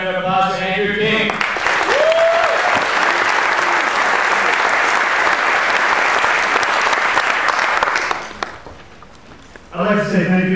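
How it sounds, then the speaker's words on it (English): An audience gives a loud, sustained round of applause for a speaker at an Ignite talk event. A voice can be heard before the clapping starts, and talking resumes after it fades. "Let's have a big round of applause for Andrew King."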